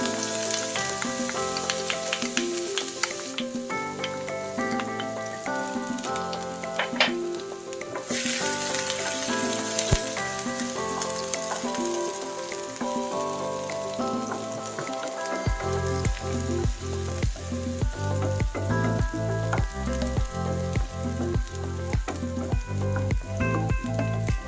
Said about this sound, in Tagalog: kapag mainit na yung ating mantika, pwede na natin ilagay yung ating white onion